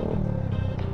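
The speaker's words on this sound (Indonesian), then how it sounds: "membuat knalpot jeblok-jeblok" Exhaust of a Honda Sonic motorcycle, modified to pop and crackle, idling with a steady rapid burbling pulse, loud and close with no talk.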